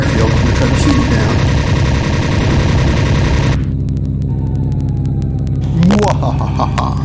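Aircraft machine gun fire in the Linux Air Combat flight game, a P-38 engaging an enemy plane, rattles as loud sustained bursts over a roaring engine drone, then cuts to quieter engine noise with a brief whine near the end.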